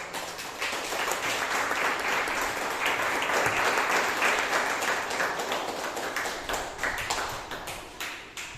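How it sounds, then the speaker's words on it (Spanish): A church congregation applauds after a morning sermon, with loud, dense clapping that swells and holds before thinning toward the end. "un nuevo aplauso por esa palabra que el Señor nos trajo esta mañana"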